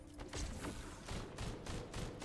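Gley, a character in the video game The First Descendant, fires her weapon in a fast, steady string of gunshots. Several rapid bursts follow one another at close range with no talk.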